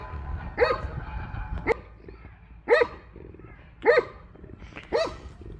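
A dog barks at an outdoor puppy training class, four sharp, fairly close barks spaced roughly a second apart over low background noise.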